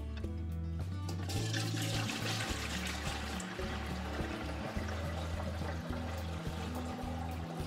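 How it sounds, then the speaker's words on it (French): Strained dandelion juice poured from a vat back into a cauldron for homemade dandelion wine, a steady close splashing flow of liquid running without pause, with no talking. "Et on peut retransvider dans notre chaudron."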